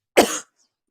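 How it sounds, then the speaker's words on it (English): A single short, harsh cough bursts out close to the microphone during a live-streamed reading session, followed by silence. "I'm not the first person to get a coughing attack in a live stream"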